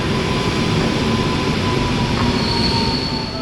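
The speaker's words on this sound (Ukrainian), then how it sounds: "Ось старенький потяг." An old train at a station in Kraków, its carriages rumbling steadily past with a thin metallic wheel squeal, close and loud, with no voices.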